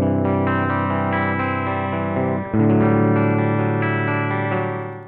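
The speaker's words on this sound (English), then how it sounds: "Time to tune her up, let's go." An electric guitar with a top-mounted Floyd Rose tremolo and fresh strings rings through distortion and chorus effects, a loud sustained chord that dips and shifts pitch once midway, then swells on and slowly fades, with no talking.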